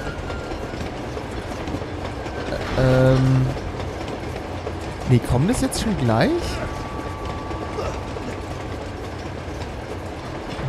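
Train rolling past in the video game Uncharted 2, a steady rumbling background with a brief louder swell and a clanking passage, while someone speaks German briefly over it.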